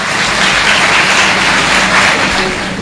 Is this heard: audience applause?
yes